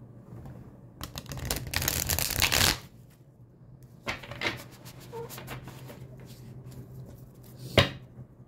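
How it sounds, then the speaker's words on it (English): Tarot cards riffle and shuffle up close in a long, brisk burst, followed by softer, scattered shuffling and a final sharp snap of the deck. "Two more shuffles."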